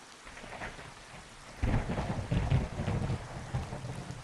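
Thunderstorm ambience in the dark detective game Discworld Noir: steady rain hiss throughout, with a deep rolling thunder rumble swelling in after the first second and a half and continuing loudly to the end, no voices.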